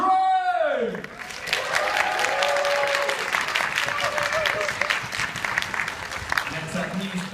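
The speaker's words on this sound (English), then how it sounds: "Please give them a massive round of applause when they come out." Convention crowd at a manga and anime industry panel applauding and cheering as a panelist walks out, with loud clapping and shouts following an announcer's voice at the start.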